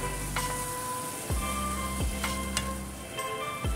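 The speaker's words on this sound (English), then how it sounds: "Stir fry a little bit." Beef stir-fried with light soy sauce and rice cooking wine sizzles steadily in a pan, the frying hiss joined by occasional clicks and scrapes of stirring, with no talking.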